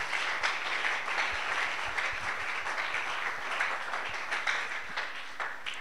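A church congregation breaks into sustained applause during a French-language deliverance and blessing service, a dense, steady wash of many hands clapping that swells slightly and holds for several seconds with no speech over it.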